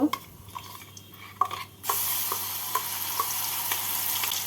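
Ground poppy seed paste dropped into a panch phoron tempering with green chillies, quiet scraping and clinks at first, then a sudden steady frying hiss that continues to the end, no talking.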